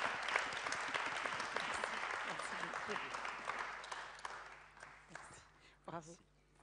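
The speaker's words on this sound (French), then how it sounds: "Je vous demande de l'accueillir sous un tonnerre d'applaudissements." A dense wave of audience applause greets the host of a diversity round table event in a hall, loud and sustained before thinning out, with a voice speaking briefly near the end.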